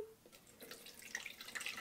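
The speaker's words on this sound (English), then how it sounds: "I'm now going to strain it in this little contraption here" Rice water trickles through a small strainer at the top of a container, faint light dripping and splashing close by, with no one talking.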